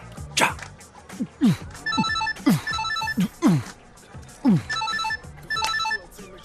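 A telephone rings in repeated electronic bursts with a steady rhythm, loud and close. Sharp swishing whip-like hits sound between the rings, and no one speaks.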